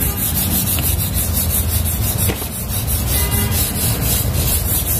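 Vigorous scrubbing of a very dirty surface at a restaurant: a loud, continuous rough rubbing and scraping in steady back-and-forth strokes close by, with no talk.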